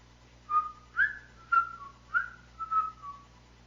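A person whistling a short, wandering tune of about six or seven notes with gliding pitch, close and clear against a quiet background hum, with no talking.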